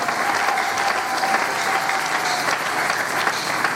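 Church congregation applauding and cheering for the Lord, a dense, steady wash of clapping and voices that fills the whole stretch at close, loud level.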